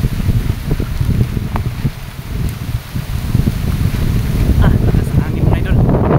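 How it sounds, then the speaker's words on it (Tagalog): Strong wind roars and buffets the microphone continuously, loud and gusty, with no clear talk. "Lakas ng hangin mga idol."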